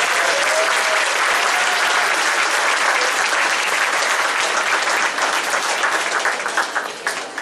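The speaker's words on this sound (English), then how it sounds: "So can we have a quick round of applause for all of our chamber leaders?" A concert audience applauds its chamber leaders in a loud, dense burst of clapping that holds steady for several seconds before thinning into scattered claps at the end.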